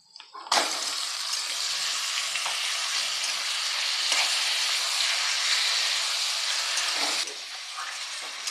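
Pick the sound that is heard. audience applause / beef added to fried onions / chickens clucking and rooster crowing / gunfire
beef added to fried onions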